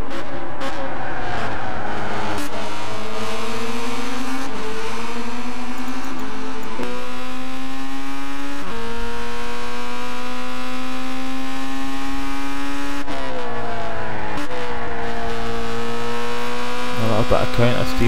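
A race car at the Red Bull X2014 Jr Championship drives through bends. Its engine note climbs and drops in repeated surges with loud revving throughout, and a commentator speaks over it.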